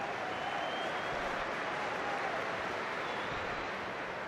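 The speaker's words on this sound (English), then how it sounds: "The applause begins again." Steady, broad applause from a large football stadium crowd fills the whole stretch, continuous and even in loudness, with a distant stadium wash behind it.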